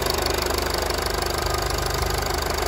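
A 2014 Mercedes-Benz GLK250 BlueTec diesel engine idles with a steady, even rumble and rhythmic clatter, heard up close and unchanging throughout.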